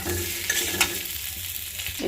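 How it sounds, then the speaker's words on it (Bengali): Potatoes lightly frying in hot oil for aloo dum, a steady close sizzle and hiss with a few soft stirring scrapes and no voices. "আলুর দম করার জন্য আলুটা আমি তেলে হালকা ভাজা দিয়ে নিতেছি"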